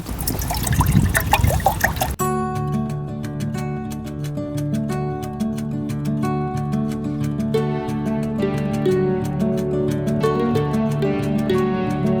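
Water is poured into a container outdoors at a camper van stop, a brief, close splashing pour lasting about two seconds, followed by sustained ringing tones.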